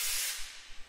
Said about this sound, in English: this is sprayed in real time